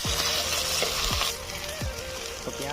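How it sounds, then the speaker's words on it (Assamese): Minced onion and garlic hit hot oil in a wok and sizzle loudly up close, a dense frying hiss that eases slightly after the first second, with faint stirring clatter. "পিঁয়াজ ৰচুন যিমানখিনি পিচি লোৱা আছিলে গোটেইখিনি এতিয়া দিয়া হ'ল"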